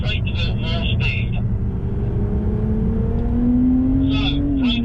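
BMW sports car, a Z4 M40i or M2 Competition, accelerating out of a corner on a track: a loud engine note rising steadily in pitch over several seconds, heard from inside, with speech at the start and end.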